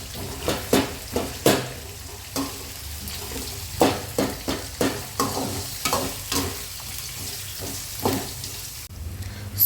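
Chopped onions fry in a pan for poha (avalakki), a steady low sizzle broken by repeated scraping stirs, close and fairly loud, with no talking.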